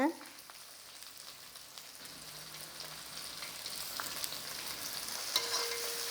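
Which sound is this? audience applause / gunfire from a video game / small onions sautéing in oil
small onions sautéing in oil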